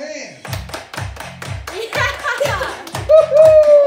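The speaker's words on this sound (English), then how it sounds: "Everybody clap your hands." Hands clapping in time to a song, a steady series of sharp claps roughly every half second over the loud dance track with a singing voice.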